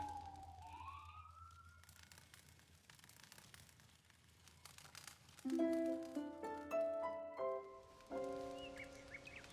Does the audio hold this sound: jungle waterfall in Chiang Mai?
no